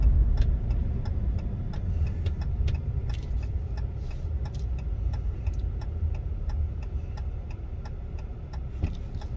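A 2017 Ram 1500 truck with an oil pressure fault, driving as a steady, loud low engine and road rumble holds throughout, with faint ticking clicks layered on top.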